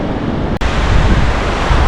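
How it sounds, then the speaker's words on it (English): Steady, loud roar of ocean surf at a beach, continuous wash of waves with heavy wind noise on the microphone and a brief dropout partway through. "Well, here we are at the beach,"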